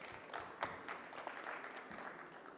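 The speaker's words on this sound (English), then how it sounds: "A round of applause to Fadali." A small crowd applauds, scattered claps merging into a quiet, steady patter heard from a distance.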